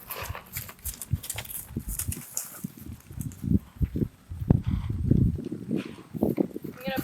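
Hooves of Hank, a horse being worked toward a canter, thud and clop unevenly on the ground at moderate distance, with a voice speaking at times over the footfalls.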